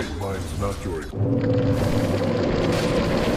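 A booming in-game explosion in Dota 2 bursts in partway through, followed by sustained loud rumbling and crackle, with excited Thai esports commentary heard before it.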